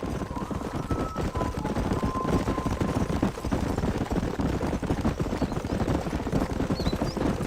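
Many horses' hooves clatter rapidly in a dense, continuous galloping rhythm, fairly close, with no talking, in the video game Red Dead Redemption on PC.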